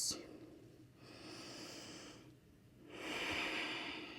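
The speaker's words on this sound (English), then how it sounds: "Take a few slow breaths." Slow, audible breaths drawn in and out during a yoga child's pose, two long exhalation-like swells with a pause between, close and fairly soft.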